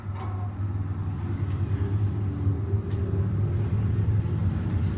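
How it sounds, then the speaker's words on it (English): Motorcycles rumbling past outside a house, a steady low engine roar that stays loud and continuous throughout without any clear rise or fade. "motorcycles going past my house"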